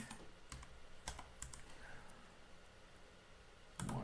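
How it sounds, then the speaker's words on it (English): Computer keyboard typing, a handful of quiet key clicks spread across a few seconds during a login, faint over a low room hum. "So let's see if I can type this in right."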